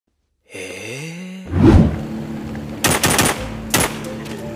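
Automatic gunfire rattles out in The Walking Zombie 2, several loud bursts of rapid shots following a rising electronic tone and a heavy thud, with game ambience droning underneath.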